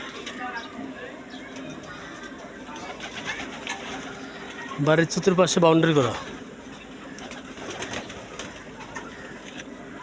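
Domestic pigeons kept on a city rooftop give a short burst of throaty cooing midway, close and fairly loud, while someone talks over the background hum before and after.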